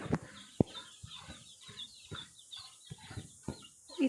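Chickens in a coop room at a rural house, clucking in short scattered bursts with a few sharper calls, fairly close, no talk.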